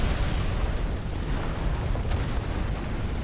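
Pillar of Flame attack in a video game erupts as a dense, roaring blast of fiery rumble, sustained and heavy with low-end boom throughout, with no talking over it.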